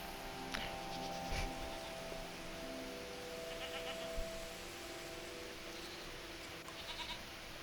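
Goats bleating while being petted, with faint, scattered short bleats from nearby animals over a steady background hum, fairly quiet throughout, with no talking.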